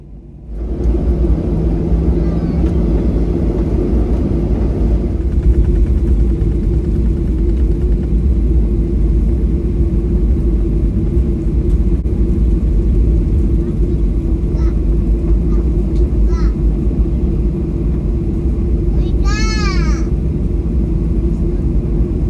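Steady loud rumble of a Qantas Boeing 737 airliner taxiing to the runway, engines droning continuously from inside the cabin with a brief chime partway through.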